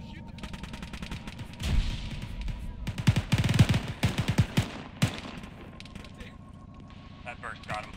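Gunfire in a war video game, rapid bursts and scattered shots that swell in the middle then trail off into sporadic pops, with players talking over the battle.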